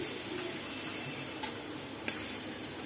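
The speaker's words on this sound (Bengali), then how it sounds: "আদা রসুন বাটাটা দিয়েও খুব ভালো করে পেঁয়াজের সাথে ভেজে নেব" Onion and ginger-garlic paste fry in a pan for liver curry, a quiet, steady sizzle with two small utensil clicks against the pan.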